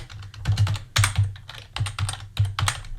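Computer keyboard keys clattering in quick irregular bursts while code is typed into a groceries list app, close and fairly loud, with no talking.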